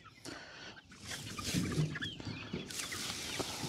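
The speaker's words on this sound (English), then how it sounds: "it's a mixed flock so basically we have here our barnyard mix of chicks" Mixed barnyard flock of chickens and chicks clucking and peeping close by, a busy overlapping chorus of soft clucks and high chirps, fairly quiet, with no talking.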